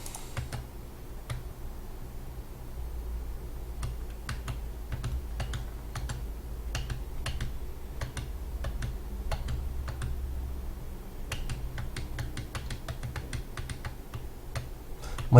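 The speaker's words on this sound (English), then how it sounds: "My keyboard is kind of loud" Steady, rapid clacking of a loud computer keyboard being typed on, with dense bursts of keystrokes over a low background hum.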